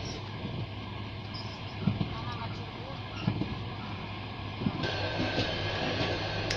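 Steady rumbling drone inside a moving passenger train, with low wheel noise and faint periodic knocks from the track, continuous and fairly quiet throughout.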